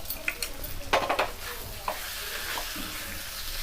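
Shimul fish sautéed in masala in a pan, a continuous close sizzle with a cluster of scraping stirs and clinks, moderate level, no voices.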